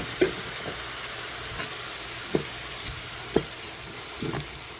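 Water poured into a pan of frying fried rice makes a soft, continuous sizzle, punctuated by several sharp utensil knocks against the pan at irregular intervals.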